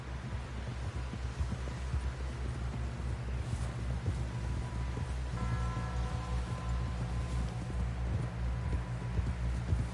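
Steady clip-clop of hooves of a horse galloping in Red Dead Redemption 2, over a low droning hum, with rhythmic thudding running throughout; no talking.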